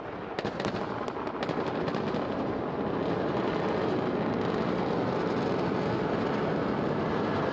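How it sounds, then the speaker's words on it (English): Falcon 9 first stage rocket landing burn on the CRS NG-24 mission, a steady, distant broadband roar with a few sharp crackles early on, sustained and fairly faint throughout. "Stage 1 landing burn."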